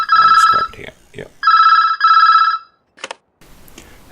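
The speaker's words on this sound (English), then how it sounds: "is that the phone ringing?" An old-style telephone bell rings in two loud, close bursts, with a person speaking between and after the rings.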